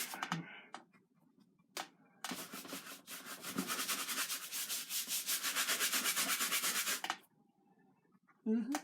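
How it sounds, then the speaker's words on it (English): Alizarin crimson oil paint being rubbed onto a canvas, heard as quiet, brisk, rhythmic scrubbing strokes that run steadily for several seconds between softer scuffs. "We'll rub that all in here."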